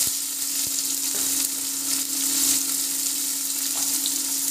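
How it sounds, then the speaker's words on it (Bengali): Chopped onions frying in a pan with cloves and a little sugar for a mutton curry, a steady close sizzle with brief stirring scrapes, alone without talk. "পেঁয়াজটাকে লাল করে ভেজে নেব"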